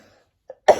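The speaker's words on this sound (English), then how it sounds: "this cough is really going to screw things up." A single short, sharp cough near the end, loud and close, preceded by a faint small throat sound after near silence.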